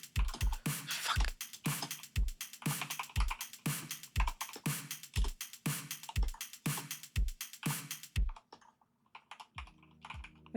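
Typing on a computer keyboard: fast, close-up key clicks in irregular bursts that keep on for about eight seconds and then stop. Brief faint sounds follow.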